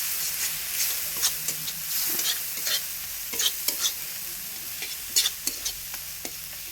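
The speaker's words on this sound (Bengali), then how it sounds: "দিয়ে মশলাটা ভালো করে ভাজবো।" A chilli and turmeric spice paste fries in a pan with a steady sizzle, broken by repeated scraping stirs that come in short uneven bursts, close and clear without talk.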